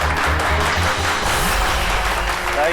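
Applause from a small gathering celebrating a son taking over his father's business, dense steady clapping over about three seconds with a low rumble of voices beneath.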